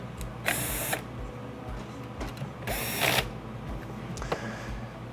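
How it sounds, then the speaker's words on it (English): Rack mounting brackets from a racking kit being screwed down with a Phillips head screwdriver, heard as two distinct grinding, whirring bursts over a steady low mechanical hum, with no talk. "Let's screw this down."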